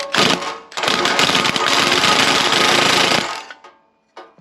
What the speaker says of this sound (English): I'm starting to take the exhaust bolts loose